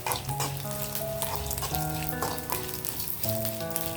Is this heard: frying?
yes